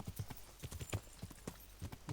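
Hoofbeats of a horse in Kingdom Come: Deliverance sound in a steady trotting rhythm of moderately loud, close clip-clops, with no voices over them.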